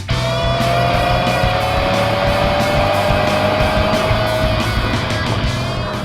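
A 2017 Subaru WRX driving at about 100 miles per hour on a road, heard as a loud, steady engine drone and road roar from inside the car, with engine pitch climbing gradually.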